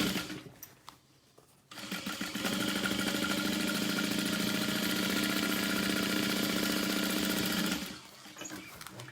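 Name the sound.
sewing machine stitching along the bottom edge of a tote bag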